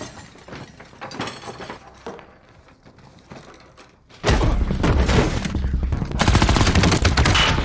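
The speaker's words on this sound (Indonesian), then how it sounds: "Ya, aksi baku tembak pun tak terhindarkan lagi." Gunfire erupts in a film shootout in a hunt for terrorists in Ireland, loud sustained bursts of automatic shots after a quieter stretch of background score, dense and close.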